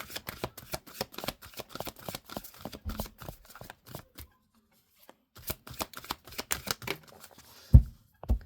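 Tarot cards are shuffled by hand in rapid riffling bursts, close and crisp, pausing briefly for about a second before resuming, with a soft knock near the end.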